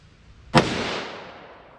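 A single sharp, loud crack from a .357 Magnum revolver firing heavy Buffalo Bore ammunition, with a short rumbling tail as it decays.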